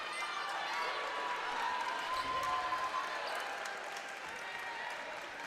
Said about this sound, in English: she started clapping for herself before she realized that she was all alone on this side of the court